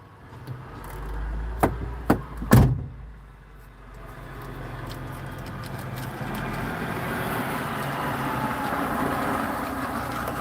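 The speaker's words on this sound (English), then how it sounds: "Look, a big truck's coming through here now." Big truck arriving and pulling up to park nearby, a low rumbling approach with a few sharp clanks or brake hisses early on, then a sustained idling engine drone that continues to the end.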